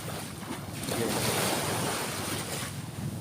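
Steady roar of sea waves washing onto a shore, loud and continuous, with wind buffeting the microphone throughout.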